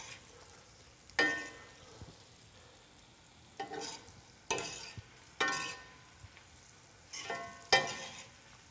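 Flour-coated shrimp fry in a pan for shrimp and gravy, a steady close sizzle broken by several loud bursts of crackling and stirring.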